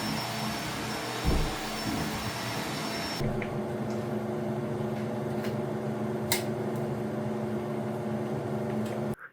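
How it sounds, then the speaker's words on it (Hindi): A household vacuum cleaner runs steadily throughout a whole-house cleaning, a constant close motor drone with a brief bump near the start and a cutoff at the very end. "फिर मैं पूरे घर को वैक्यूम क्लीन करती हूँ"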